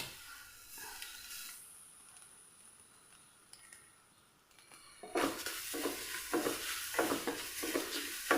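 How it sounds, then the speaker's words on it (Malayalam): Semolina and grated coconut fry in ghee while being stirred steadily, a close, soft sizzle with scraping strokes that grows louder and more rhythmic in the second half, with no one talking. "കൈവിടാതെ നമ്മൾ നല്ല പോലെ ഒന്ന് മിക്സ് ചെയ്തുകൊണ്ടിരിക്കുക നമ്മുടെ ഈ ഒരു നെയ്യിൽ കിടന്നിട്ട് നമ്മുടെ ഈ ഒരു റവ നല്ല പോലെ"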